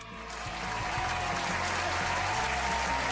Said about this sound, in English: And applause, yes.